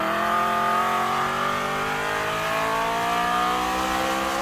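An abnormally loud race car engine roars steadily and close at full throttle on a racing circuit. It holds a dense, buzzing drone with a slowly shifting pitch and no break.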